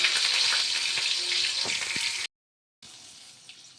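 Dried red chilies and bay leaves sizzle steadily in hot oil with a bright hiss, close up, broken by a brief silent cut before a quieter sizzle resumes.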